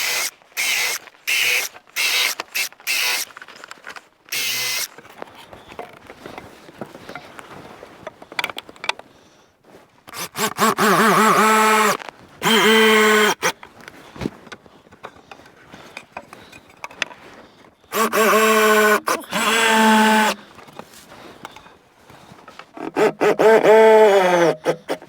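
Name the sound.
drill pre-drilling ash wood for screws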